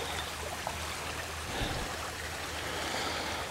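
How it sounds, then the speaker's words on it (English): A flowing creek rushes and burbles close by, a steady broadband wash of moving water that stays even and fairly loud for the whole stretch. "This is literally the first time I've seen the creek flowing this close."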